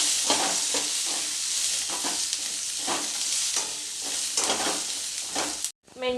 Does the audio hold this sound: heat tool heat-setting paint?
no